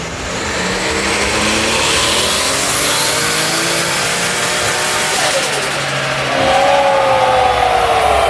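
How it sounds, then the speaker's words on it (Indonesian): Nissan Skyline R34 GTR V-Spec with a fully Mainz-tuned inline-six engine revving hard inside a Surabaya garage, the pitch sweeping up and down across several loud, close bursts, climbing sharply near the end. "begitu teriakan suara khas inline six-nya itu langsung kedengar, war, itu suaranya"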